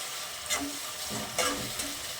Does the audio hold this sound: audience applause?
no